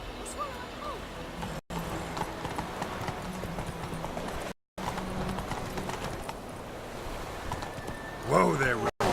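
Roach the horse gallops in The Witcher 3: Wild Hunt, with rapid, rhythmic hoofbeats close by and brief dropouts. Voices from the game sound in between, and a whinny-like cry comes near the end.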